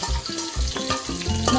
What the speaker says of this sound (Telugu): ఫ్రై అయింది చూడండి.